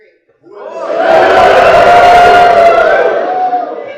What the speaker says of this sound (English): on the count of 3, can we give a beautiful holler?